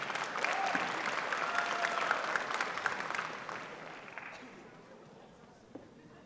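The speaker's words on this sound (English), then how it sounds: "Give yourselves all a big round of applause." A large crowd claps at the UC Berkeley AI Hackathon 2025 awards. The applause is loud and dense at first, then thins out and fades over the final two seconds.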